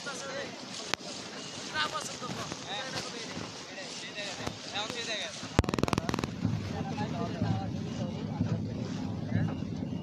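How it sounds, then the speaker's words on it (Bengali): Racing boats in a rural Bengali monsoon village boat race pass close by amid a dense roar of crowd noise and wind, with sharp bursts like cracking firecrackers midway and a louder, busier stretch after. "তো এই যে নৌকা যাচ্ছে আমার সামনে, দেখতেছেন একটা টান দিবে আর কি।"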